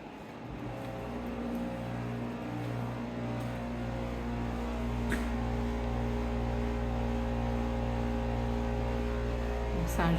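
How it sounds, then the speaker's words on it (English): A dehumidifier runs in a Maine basement with a French drain, giving a steady, close, continuous low hum with a droning tonal buzz that holds at an even level throughout. "The sound you're hearing is a dehumidifier."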